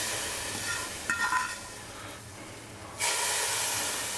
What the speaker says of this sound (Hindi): बिल्कुल सिजलिंग सेवियाँ हैं ये